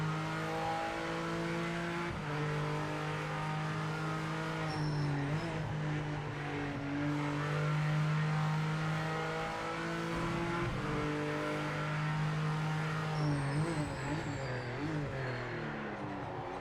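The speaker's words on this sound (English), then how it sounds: "Let's try and push the car. See what it's like when I push him." Racing car engines drone steadily in a driving video game as one car shoves another from behind, revs rising and falling with brief tire scrubs, continuous and fairly close.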